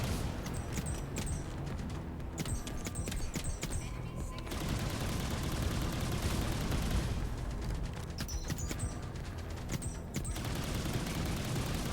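Continuous heavy weapon fire in the game Outpost Infinity Siege, a dense unbroken stream of rapid shots and booms running the whole time, with a voice briefly audible underneath.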